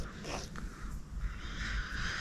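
An old sticker peels away from a surface with a continuous, close, raspy tearing hiss that lasts a couple of seconds over a low background rumble.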